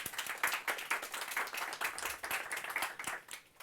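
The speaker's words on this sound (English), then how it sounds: "And an applause to David." A seminar audience at a morning media-analysis breakfast event claps steadily for several seconds, a dense patter of many hands at moderate distance that tapers slightly at the end, with no voices over it.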